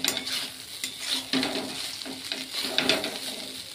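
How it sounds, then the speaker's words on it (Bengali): A spatula stirs flattened rice (chire) pulao in a pan, giving repeated scraping and rustling strokes over a light sizzle, close and moderately loud with no talking. "2-1 মিনিট নাড়াচাড়া করব, তারপরে ডিশে পেরে ফেলবো।"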